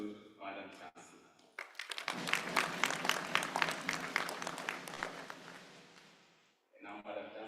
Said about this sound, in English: Let's give a loud applause to Madam Chancellor.